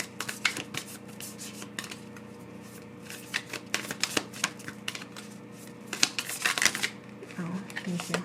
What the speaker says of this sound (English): it's very hard to get these shuffled